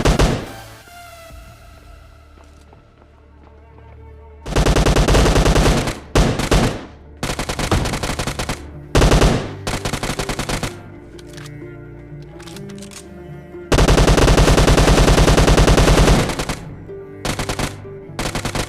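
UMP submachine gun fire in the BGMI battle royale game rattles out in loud sustained bursts and short rapid volleys, separated by quieter stretches of game ambience.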